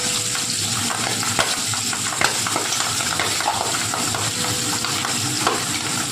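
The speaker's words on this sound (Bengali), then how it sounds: "এখন এই যে শিং মাছ ভাজছি" Shing fish (stinging catfish) frying in an uncovered pan of oil, a dense steady sizzle scattered with sharp pops and spatters, close and loud with no talking.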